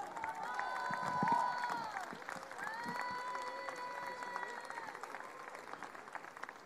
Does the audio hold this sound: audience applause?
yes